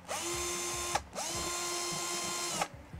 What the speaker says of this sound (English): Starting with a small drill bit, obviously,